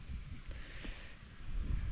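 Gusty wind buffets the microphone outdoors during a carp fishing trip in the Kyiv region, a steady low rumble that swells toward the end, with no talk.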